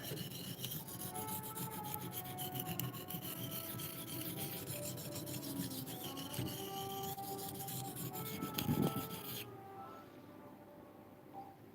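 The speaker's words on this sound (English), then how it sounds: "That's all I'm doing is shaping and working this edge." A homemade blacksmith-forged knife edge is shaped and sharpened with a steady, continuous rasping and rubbing grind, loud and close, that runs unbroken before cutting off near the end and leaving quiet.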